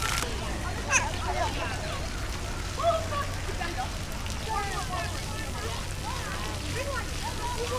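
Water sprays from a fountain at a playground water play area at Pier 26 in New York City, a steady hissing patter like rain, with voices and children's chatter in the background.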